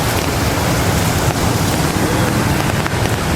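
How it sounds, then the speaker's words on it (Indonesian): Heavy rain pours steadily during a flood in Malang, a dense, loud, unbroken hiss with no voices over it. "hujan yang cukup deras ini"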